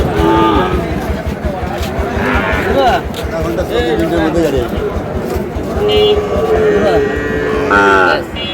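Sahiwal cattle low repeatedly at a busy cattle market in Dhaka, the long moos rising over constant bargaining talk and crowd babble close by.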